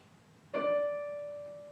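A single piano string harmonic rings out after a moment of quiet, a pure bell-like tone that sustains and slowly fades.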